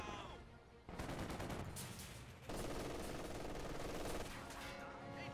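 Machine gun fire in a Company of Heroes 2 battle, sustained dense bursts running almost without break, growing heavier after a brief shift, with occasional other gunfire mixed in.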